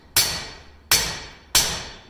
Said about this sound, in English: Direct blows, and then I'm going to pull towards me with my hammer.